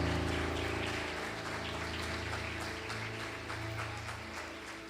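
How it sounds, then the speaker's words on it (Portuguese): A church congregation applauds during a service celebrating a leadership school graduation, a dense, sustained wash of many hands clapping that stays steady and gradually fades slightly, with no talk over it. "Louve a Deus com as suas palmas."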